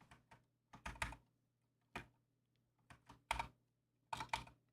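Close computer keyboard typing in quick irregular bursts of keystrokes separated by brief pauses, as a sentence is entered; no voices are heard.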